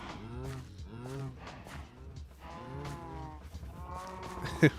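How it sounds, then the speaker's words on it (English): Several bleating, mooing cow calls from the video game Minecraft repeat in bursts at close range, with a brief sharp click near the end. "We got a lot of cows in here."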